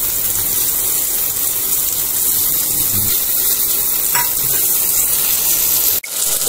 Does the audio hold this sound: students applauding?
no